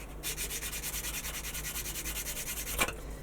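A model part's nub mark is sanded by hand, a steady rhythmic rasping of abrasive strokes close up that runs alone for about three seconds and ends with a short louder scrape.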